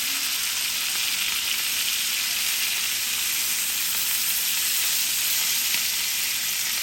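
Bacon-wrapped filet mignon sears in a hot pan, producing a loud, steady, dense sizzle that holds evenly throughout with no voices.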